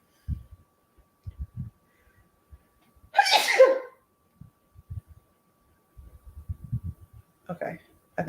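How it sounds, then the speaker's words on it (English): A single loud sneeze bursts out mid-clip, with soft scattered talking sounds and small noises before and after it. "I'm about to sneeze."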